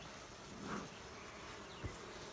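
A steady, soft insect drone fills the space, the hum of many honeybees buzzing close by at an open hive during a hive check, with a faint tap or two.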